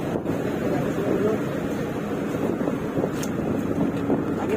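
Strong wind at sea buffets a boat travelling away from Bawean Island, making a continuous loud rushing roar with gusty microphone buffeting, and a voice speaks faintly underneath.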